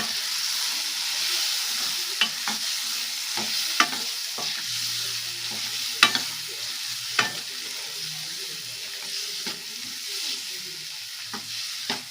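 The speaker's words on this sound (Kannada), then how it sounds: "ಈಗ ಅವರೆಕಾಳನ್ನ ಆಯಿಲ್ನಲ್ಲೇ ಫ್ರೈ ಮಾಡ್ಕೋಬೇಕು" A steady sizzle of field beans (avarekalu) frying in hot oil, broken by occasional clinks and stirring scrapes of a spoon against the pan.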